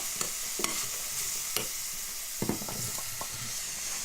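Garlic ginger paste and dried spices fry for lamb rogan josh, a soft sizzle broken by several clinking, scraping strokes of a spoon against the pot.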